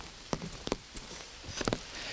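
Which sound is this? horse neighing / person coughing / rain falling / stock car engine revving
rain falling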